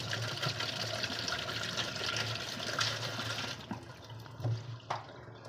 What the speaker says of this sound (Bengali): এবার এই জলটাকে আমি ছেঁকে ফেলে দেবো।